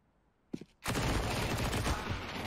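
Counter-Strike: Global Offensive gunfire during an ESL Pro League match: a brief burst of shots, then a loud, dense, continuous barrage of rapid fire that rolls on to the end.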